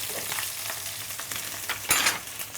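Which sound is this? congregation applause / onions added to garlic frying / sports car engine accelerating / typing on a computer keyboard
onions added to garlic frying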